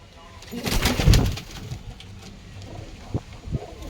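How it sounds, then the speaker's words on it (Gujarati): Several pigeons kept at home coo softly nearby, their low burbling strongest early on, with a few brief knocks and handling sounds afterward. "તમે જોઈ શકો છો અહીંયા કબૂતર અમારે કેટલાય છે"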